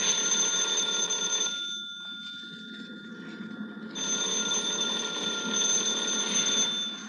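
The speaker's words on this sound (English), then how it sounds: "Are you going to answer the phone?" An old-fashioned telephone bell rings in a 1954 radio suspense drama, a long steady trill that pauses briefly midway and then resumes, loud and alone.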